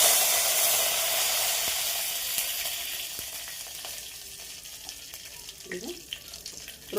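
Mustard seeds and curry leaves hit hot oil with a loud, dense sizzle that gradually fades to a softer crackle, with a few small pops and clinks near the end.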